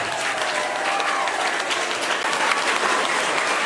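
Loud, dense applause from a crowd at a school prize distribution, sustained evenly throughout as a bright, close wash of clapping with no voices on top.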